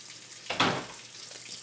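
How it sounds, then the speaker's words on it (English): A chuck roast sizzles in a hot pan, a short burst of frying hiss that swells suddenly and fades over a quiet background. "see how that's sizzling?"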